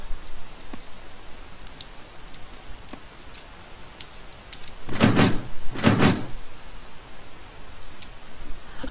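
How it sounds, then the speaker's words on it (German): A stuck door in the horror video game 7 Days rattles in two short, loud bursts against a quiet background hiss with faint scattered ticks. "Die Tür klemmt."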